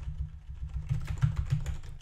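Keystrokes on a cheap mechanical keyboard, a steady run of close, moderately loud clicks and clacks with a few sharper hits, heard alone.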